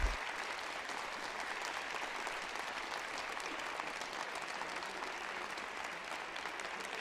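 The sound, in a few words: applause for graduating seniors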